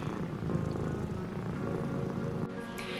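A cat purrs steadily and close up, a low continuous rumble with a faint rustle near the end.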